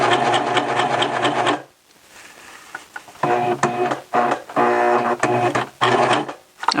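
A serger stitches a T-shirt seam, loud close rapid chattering in one long burst, then a pause and several shorter stop-start bursts.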